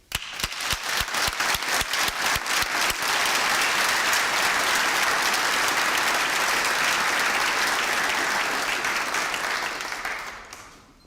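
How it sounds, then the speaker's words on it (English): Audience at a master's graduation ceremony bursting into applause, opening with a few sharp separate claps that quickly swell into loud, dense, sustained clapping before fading away at the end. "and the biggest applause for you"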